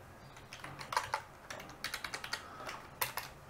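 Computer keyboard typing while writing Arduino code: irregular bursts of soft, close keystrokes with brief pauses between clusters, quiet and alone.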